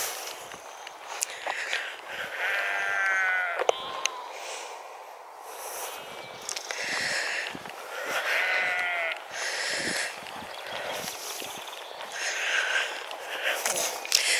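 Sheep and lambs bleat repeatedly at varying distances, with snorts and shuffling footsteps in between and a few calls overlapping.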